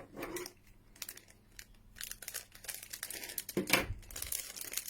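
Crinkly plastic packaging of a Japanese fishy arare rice cracker snack crackles and tears as it is cut open, with repeated close rustling bursts and no talking.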